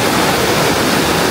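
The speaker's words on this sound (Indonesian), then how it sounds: "Aliran sungainya cukup deras ya." A fast-flowing river in Annecy, France rushes loudly and steadily, a dense close roar of water with no voices.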